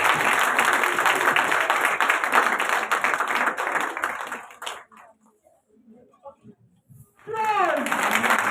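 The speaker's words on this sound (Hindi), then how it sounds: "तालियां रुकनी नहीं चाहिए।" Applause from a school audience fills an auditorium during an annual function, dense clapping with voices mixed in for about four seconds, then a near-silent pause before clapping briefly resumes alongside a speaking voice.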